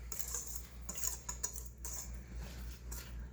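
Metal whisk clattering against a bowl while mixing milk chocolate cake batter, quick irregular clinks and scrapes close by over a low steady hum, with no talking.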